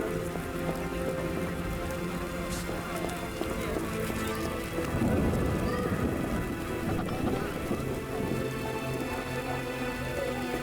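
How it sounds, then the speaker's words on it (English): Steady rain from The Witcher video game pours across the whole stretch, a dense even hiss with a low rumble swelling near the middle that may be distant thunder. "I get sad when it rains."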